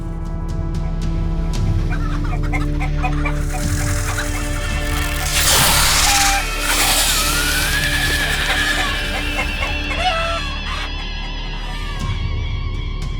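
Chickens clucking at a ranch coop, with loud, continuous fowl calls and occasional squawks over a steady background, close by.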